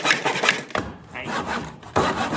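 Hand saw cutting through a piece of wood held against a front board, with several rasping strokes in bursts, loud and close, separated by a short pause.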